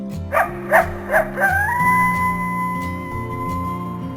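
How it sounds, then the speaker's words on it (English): Coyote calls: a few sharp yips in quick succession give way to a long, steady, wavering howl, heard over a constant low musical backdrop. "So I'm going to show you the coyote sound right now."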